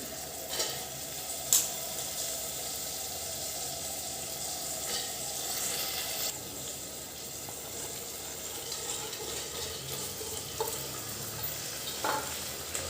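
Green moong and potato being cooked in oil in a pan, a soft sizzle with occasional spoon clicks and scrapes as the mixture is stirred, fairly quiet, with no talking.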